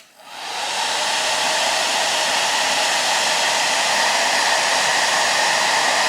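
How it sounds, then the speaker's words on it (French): A hair dryer blows steadily to heat UV resin on a fishing lure, a loud continuous whooshing hiss that starts up abruptly and holds level, with no speech. "je prends mon sèche-cheveux et je viens chauffer gentiment ça"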